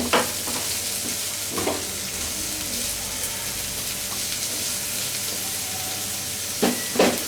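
Whole unpeeled garlic cloves fry in a pan for a Bangladeshi dried loitta fish dish, a continuous crackling sizzle broken by a few sharp scraping stirs near the start and the end.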